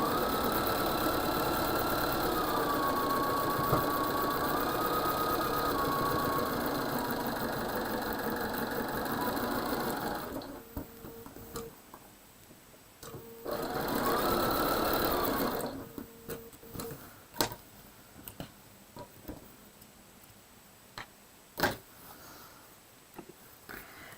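A sewing machine stitches a Double Dutch quilt block, humming steadily at close range for ten seconds, then running in shorter bursts separated by pauses with small clicks.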